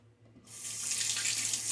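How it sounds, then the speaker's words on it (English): Water runs from a tap into a sink basin for rinsing after a wet shave, a soft splashing hiss that starts abruptly after a quiet moment and carries on steadily, close by. "getting your face down in the basin, near the basin, and splashing the water up, using that to rinse"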